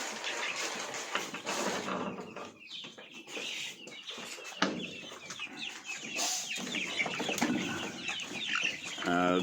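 Backyard chickens cluck and call close by, with irregular bursts and squawks scattered throughout, among rustling and handling noises.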